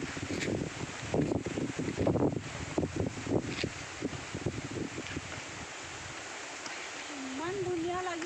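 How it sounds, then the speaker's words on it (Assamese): Wind gusts through swaying trees outdoors, a steady broad rush with rustling, and a voice speaking over it in the first half before the wind continues alone with a faint low hum. "গছবোৰে হালি জালি নাচিছে, বতাহ পাই।"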